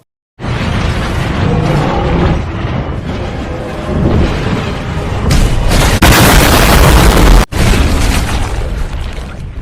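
A loud, sustained explosion roars and rumbles, with further sharp blasts and bursts near the end, heavy and close.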